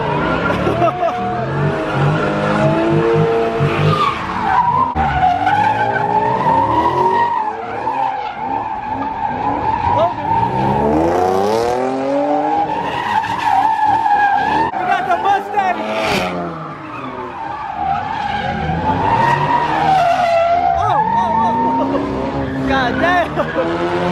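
A Ford Mustang skids and squeals its tires at a street car meet in Los Angeles, a loud continuous howling screech with the engine revving, wavering in pitch for the whole stretch while a crowd chatters and shouts nearby.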